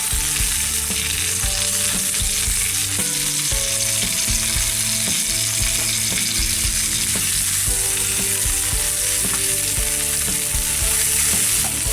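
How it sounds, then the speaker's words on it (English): Bratwurst frying in a pan with onions and a little water, a loud, continuous close-up sizzle that holds steady for the whole stretch, no voices. "Give my Bratwurst a little flip."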